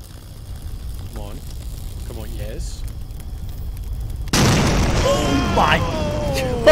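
After quiet murmured talk, a sudden loud video-game explosion erupts and rolls into a sustained roaring rumble with crackling debris.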